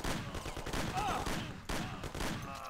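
Tommy gun fire in the video game Mafia 1, a dense rattle of gunshots running through the clip, loud and close, with game ambience and brief voice sounds mixed in.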